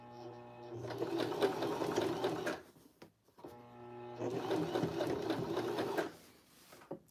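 Janome sewing machine stitching fabric in two steady bursts, close and loud, with a brief pause between runs.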